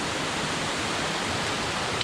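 Waterfall on the Beaver Brook trail up Moosilauke, a dense, steady rush of falling water that stays loud and close throughout with no other sounds.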